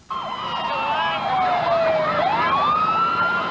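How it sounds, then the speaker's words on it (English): Emergency vehicle sirens wail loud and close, overlapping rising and falling tones sweeping continuously, with a slight engine rumble beneath. "you could hear the sirens and all coming"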